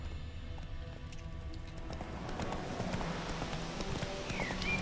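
Horse hooves clip-clop in a steady walking rhythm in the video game The Witcher 3, fairly quiet and close, growing slightly louder over a low ambient background.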